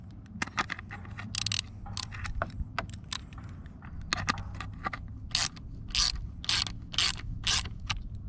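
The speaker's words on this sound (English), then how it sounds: "I think I should be able to just ratchet it down on there" A hand ratchet tightens down the front emblem on a 2013 Ford Edge, giving bursts of quick metallic clicks in uneven runs with short pauses, close and fairly crisp.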